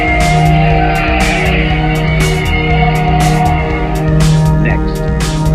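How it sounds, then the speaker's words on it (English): Attacking drones fill the sky with a loud, steady, layered hum of whining rotor tones, continuous throughout, with sharp broadband bursts scattered over it. "you will hear the hum of drones in the sky"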